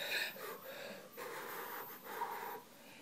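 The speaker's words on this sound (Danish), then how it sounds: "Måske din udånding lyder sådan her." A person demonstrates an uneven, wheezy exhalation, a breathy hiss over about three seconds that comes in several pushes and wavers in strength, heard close up with no talking.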